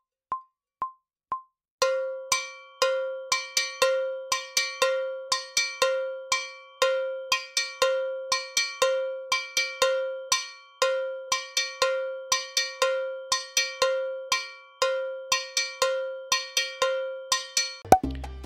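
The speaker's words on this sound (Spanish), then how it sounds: "En clave 2-3 la campana de mano suena así." A handheld salsa campana, or cowbell, plays a steady 2-3 clave pattern after four count-in clicks, with bright metallic strikes alternating open and muted tones in a driving repeated rhythm, loud and alone.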